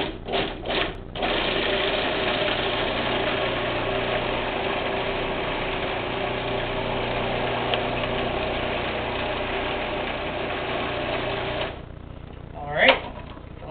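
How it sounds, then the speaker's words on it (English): A kitchen blender purees banana filling, a steady loud motor whir running nearly twelve seconds after a few short pulses, then stopping with a clatter at the end. "I'm going to go ahead and pulse it and then puree it just until it's smooth."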